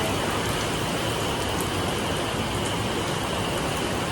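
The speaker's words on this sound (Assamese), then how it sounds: "বৰষুণ দিছে" Steady rain falls in an even, unbroken hiss, with faint scattered drop taps on surfaces, constant and fairly loud, with no voices.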